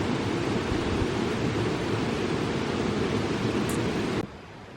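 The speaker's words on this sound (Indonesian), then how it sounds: "Curug yang pertama cukup tinggi, dan debit airnya pun cukup deras." Curug Cileat, a tall waterfall in Subang, West Java, with a heavy flow of water, roars as a steady, loud broadband rush with no pauses, then drops off sharply near the end.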